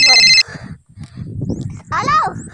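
A telephone rings with a short, bright electronic trill, then stops as voices begin talking close by.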